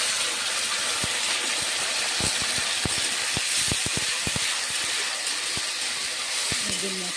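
Ground paste of garlic, ginger, tomato and chili hits fried onions in a hot pan for fish and cauliflower curry, giving a steady loud sizzling hiss throughout with scattered sharp crackles and pops.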